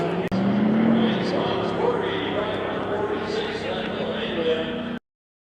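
Drag race cars at Grand Bend Motorplex, a loud, continuous engine roar whose pitch rises early and then holds, heard from up close and mixed with crowd and track noise before an abrupt cutoff.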